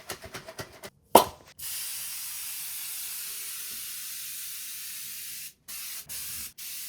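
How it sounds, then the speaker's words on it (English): Pest repellent is sprayed around baseboards in a pantry to keep mice out: a few quick puffs, one sharp burst, then a long close steady hiss lasting several seconds, ending in short sprays. "So I'm gonna spray around here"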